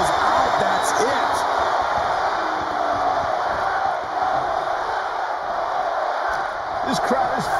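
In the WWE 2K24 wrestling game, the arena crowd for AJ Styles versus LA Knight at WrestleMania roars in a loud, sustained wall of cheering that swells and dips a little, with a few sharper shouts rising out of it.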